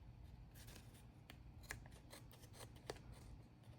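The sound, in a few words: scissors cutting paper for a tag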